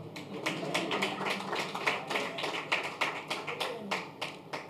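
Audience clapping at a felicitation event honoring Sri GR Mama's world record, a dense wash of hand claps with a few sharper individual claps poking out, steady and moderately loud throughout.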